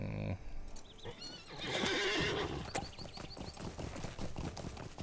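A horse neighs and whinnies during a horse race in the online game The Lord of the Rings Online, with clip-clopping hooves running underneath. The whinny is loud and near, and the hoofbeats carry on steadily after it.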